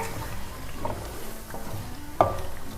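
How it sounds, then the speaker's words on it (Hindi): Masala fries in a pan with a little added water for a cauliflower and meat curry, a steady soft sizzle with occasional scraping stirs and one sharper clink of a utensil against the pan. "इसमें थोड़ा सा पानी डालेंगे और इसे थोड़ा सा भून लेंगे"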